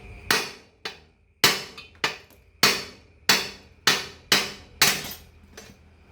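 A big hammer repeatedly strikes a vehicle axle flange, producing about ten loud, sharp metallic blows at a steady rhythm, each ringing briefly before the next, close up with no talking.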